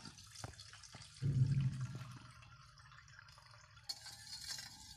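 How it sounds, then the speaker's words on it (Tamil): A spoon stirs dry ginger powder into strained milk in a vessel to make an organic garden fungicide, giving a brief swishing burst, a few light metallic clinks and faint liquid sloshing close by with no talking. "இப்போ நான் ரெண்டையும் ஒரு கரண்டி மூலமாக நல்லா மிக்ஸ் பண்ணி விட்டுட்டேன்"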